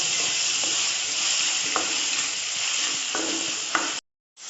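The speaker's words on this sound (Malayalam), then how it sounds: "എന്നിട്ട് അത് ഒന്ന് വഴറ്റുക കേട്ടോ." Steady sizzle of sautéing in a frying pan during preparation of easy cutlets, with occasional stirring scrapes, loud and close, then abruptly cutting to silence near the end.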